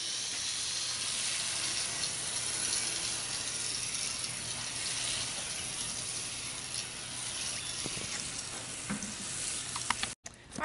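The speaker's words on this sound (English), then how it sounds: "now what I'm doing is I'm mixing with my gardening fork here" A gardening fork mixes dry, broken-up soil for a hanging basket in a garage, a continuous close crackling and scratching texture with a few sharper scrapes toward the end.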